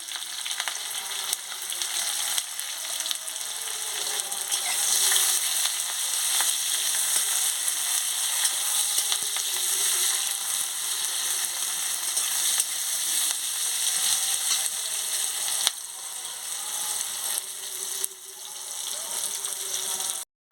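Chopped onion and green chili fry in hot oil, giving a loud, steady, close sizzle that hisses continuously with small bubbling crackles and occasional stirring.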